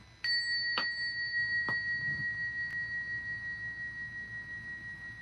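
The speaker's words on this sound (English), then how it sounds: "Let's ring the bell and cleanse the space again." A small bell rung to cleanse a space gives one clear strike followed by a few lighter taps, its bright tone ringing on and slowly fading in a quiet room.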